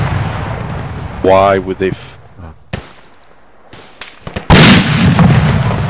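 Artillery rounds land in a military game, several sharp, separate blasts spread unevenly through the span, with the last one long and loud. A voice speaks briefly near the start, and radio chatter sits between the blasts.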